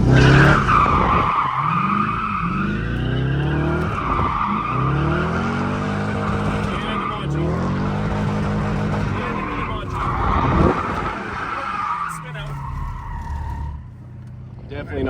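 A drift-built Corvette slides through turns, its engine revving hard in rising and falling sweeps over loud, sustained tire squeal and skidding, close and continuous for the whole stretch.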